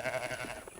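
A three-day-old lamb bleats once in a short, wavering cry, close by.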